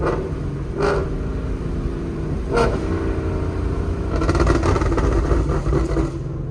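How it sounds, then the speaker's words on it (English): A Ford Mustang GT 5.0 with a burble exhaust tune rumbles steadily during a drive, with two brief pops early on and a louder crackling burble near the end. "Man, that Burble was good."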